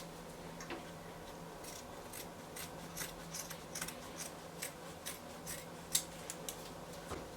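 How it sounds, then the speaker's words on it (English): Scissors snip through Ankara fabric while cutting out a blouse's back neckline, a steady series of close, crisp cuts and ticks with no talking. "I'm cutting out the back neckline."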